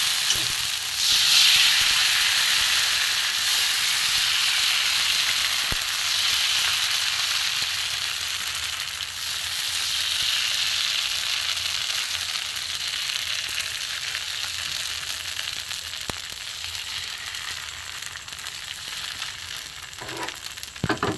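Rice flour batter for pitha fries in hot oil, giving a loud, continuous close-up sizzle with a faint occasional clink. It runs steadily and unbroken throughout, with no voices.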